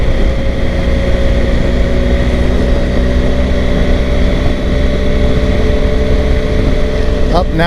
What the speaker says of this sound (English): Now I'm starting to hear a little road noise from the tires.